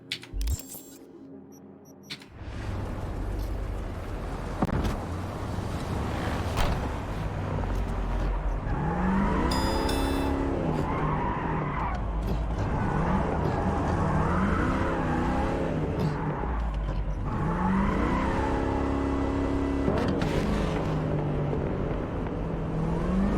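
A pre-order car in a video game drives along, its engine humming and rising and falling with repeated revving swells over a steady low rumble, with no talk heard.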